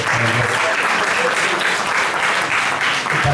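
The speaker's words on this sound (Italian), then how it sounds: "Un applauso, insomma, se lo merita anche" Steady, loud applause from a large crowd, continuous clapping filling the whole stretch without a break.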